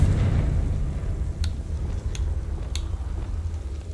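A Confringo blasting spell goes off in the Hogwarts Legacy video game: a continuous deep, rumbling roar with a few sharp bright cracks popping through it, loud and close throughout.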